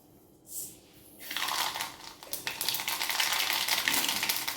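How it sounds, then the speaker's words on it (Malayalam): A teaspoon of mustard seeds hits hot coconut oil and sets off a dense, crackling splutter. It starts after a brief quiet moment and keeps popping steadily at close range, with no talk. "നമുക്ക് ഈ തിളച്ച എണ്ണയിലേക്ക് 1 ടീസ്പൂൺ കടുകിടാം."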